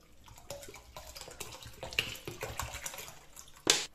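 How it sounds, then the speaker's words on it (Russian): Vinegar, 150 grams, poured into 5 liters of water with soap for an ant-killing mixture, a close steady splash and trickle of liquid with a few louder sloshes near the end, no talk. "Вливаем 150 грамм уксуса."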